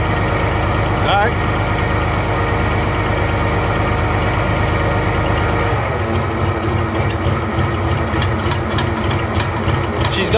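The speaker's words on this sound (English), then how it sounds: "She's got a fender rattling" An Oliver 1755 tractor engine idles close by with a loose fender rattling, giving a loud, steady low throb with pulsing mechanical clatter that shifts and eases partway through.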